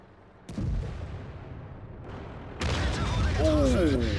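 A tank gun fires normal ammo in World of Tanks with sudden booming blasts, followed by a louder battle burst and whining tones in the game's combat soundscape.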